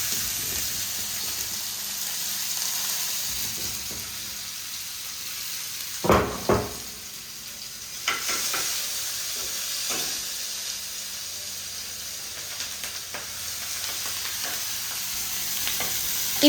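Onions with mustard seeds fry in hot oil, giving a quiet continuous sizzle with occasional louder crackles and stirring scrapes, and no talk.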